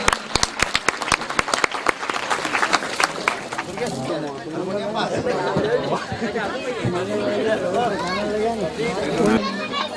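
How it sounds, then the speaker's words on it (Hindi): Brief burst of crowd clapping at a devotional Singaji gathering in Harda fades quickly into loud overlapping chatter and milling voices, with the room's hubbub carrying on over faint residual claps. "सभी लोगों के लिए एक बार जोरदार तालियां बजाएं।"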